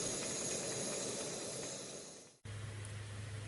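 An MSR liquid fuel stove burns with a loud, steady roaring hiss that fades and cuts off abruptly near the end, followed by a quieter low hum and faint hiss.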